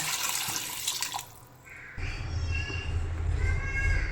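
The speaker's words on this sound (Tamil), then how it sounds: "மூணு டம்ளர் அரிசிக்கு ஆறு டம்ளர் தண்ணி ஊற்றணும்" Water pours into a cooking pot while chana pulao is being made, a steady splashing stream that starts midway after a brief lull and continues close and fairly loud.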